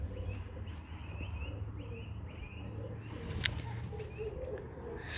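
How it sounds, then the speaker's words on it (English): A pigeon coos softly among other faint bird chirps, with low soft calls repeating over a steady background hum and a brief sharper sound in the middle. "Silly bird."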